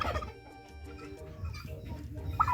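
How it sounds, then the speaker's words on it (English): Gobbling from a male turkey at a sustainable poultry farm, a rough, warbling call heard at close range over farmyard background noise. "Turkeys are known for their gobbling."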